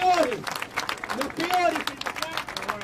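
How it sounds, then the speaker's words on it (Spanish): A crowd in a public square, Plaza Independencia, claps in scattered bursts while someone speaks loudly over the applause nearby. "Aplaudan, somos el número uno."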